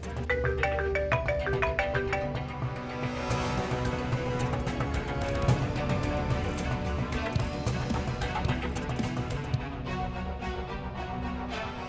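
A phone ringtone plays continuously as a busy melodic tune, fairly loud and dense throughout, with faint voices now and then underneath.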